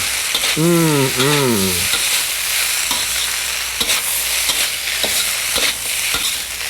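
Vegetables and rainbow brown rice sauté in a pan with a close, constant sizzle and occasional scraping stirs, after a short vocal sound near the start.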